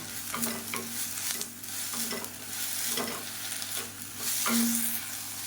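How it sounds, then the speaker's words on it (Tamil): Mint and a small lump of tamarind are sautéed in a pan for pudina thuvayal, with close spoon stirring and scraping over a soft, steady sizzle, and no talking. "இப்போ இது கூடவே சின்ன நெல்லிக்காய் சைஸுக்கு புளியும் சேர்த்துக்கலாம் சேர்த்துட்டு நல்லா வதக்கி விட்டுக்கலாம்"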